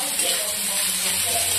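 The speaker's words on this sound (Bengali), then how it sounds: "এবার একসাথে সব গাজর বিট একসাথে ভাজা হবে ভালো করে।" Chopped carrot and beetroot sizzle steadily in a frying pan, a constant close hiss with faint stirring underneath.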